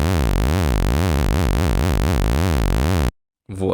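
An Xfer Serum software synth tone with an LFO modulating master tune, pitch swooping up and down in a steady wavering zigzag for about three seconds, loud and alone, then cutting off to brief silence.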